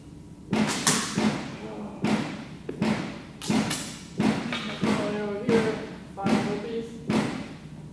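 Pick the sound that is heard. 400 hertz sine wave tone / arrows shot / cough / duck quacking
arrows shot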